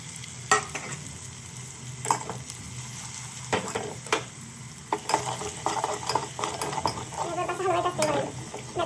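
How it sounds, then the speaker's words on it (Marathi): Garlic and coconut fry in a pan while being stirred, a steady low sizzle under repeated scraping clatters of the spoon against the metal, close and continuous. "हलवायचं असते मला, नाहीतर करपते."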